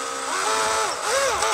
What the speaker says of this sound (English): so we'll come around to this side and finish drilling out the hole.